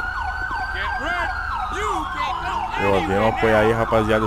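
A police car siren in GTA 5, on a modded Toyota Corolla patrolling a favela, wails in rising and falling sweeps that quicken into rapid yelps. Someone talks over it throughout.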